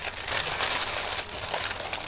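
Jewellery packaging sealed with stickers being torn open and unwrapped, a close, continuous crinkling and crackling of paper that carries on without pause.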